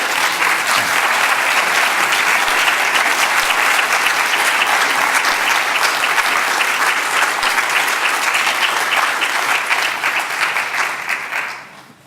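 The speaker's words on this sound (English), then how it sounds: "at least the students should give them a round of applause" Students at an undergraduate global health commencement applaud their faculty in a long, loud, even burst of clapping that fills the hall and then fades out at the close.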